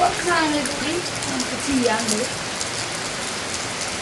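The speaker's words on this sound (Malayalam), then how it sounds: "ആ മഴ പെയ്തപ്പോൾ" Rain falling steadily at a family home, a soft hiss of drops on surfaces throughout, with a voice briefly speaking over it in the first half.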